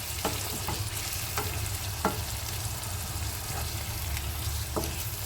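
Spice paste frying with potatoes for a cabbage and fish head dish, a steady sizzle punctuated by regular spatula taps and scrapes over a low background hum.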